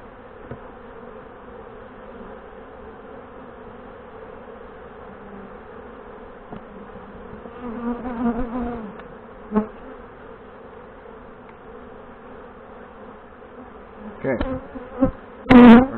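Honey bees from a queenless hive buzz steadily during combining with another colony, a constant hum with louder surges as they fly close, a sharp loud burst near the end.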